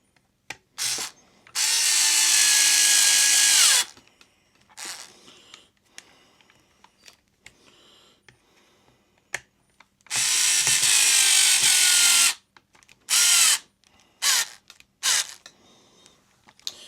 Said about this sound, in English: I don't know if this thing's going to have enough power to drill these in.